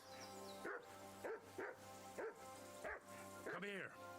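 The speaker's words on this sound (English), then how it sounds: "I assume you can hear that damn dog of yours barking." A dog barks repeatedly in Kingdom Come Deliverance 2, sharp bow-wows in a quick, uneven series, heard faintly and close under a steady game ambience.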